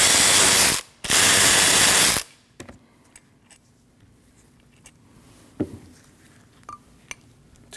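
A ratchet loosens the two 14mm caliper bracket bolts on the front brakes of a 2003-2008 Subaru Forester. Two loud, dense bursts of ratcheting come close up, then a few faint scattered clicks and taps follow.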